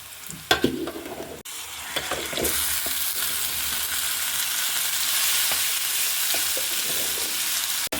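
Spice paste frying in a pan for a beef brain dish, a few scrapes and knocks at first, then a loud continuous sizzle with occasional stirring taps, no talking.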